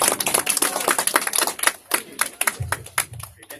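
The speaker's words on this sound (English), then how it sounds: "Round of applause, okay, to start this session going." An audience at an Air Force Day speaking event gives a round of applause, a dense burst of nearby hand claps that thins into scattered individual claps toward the end.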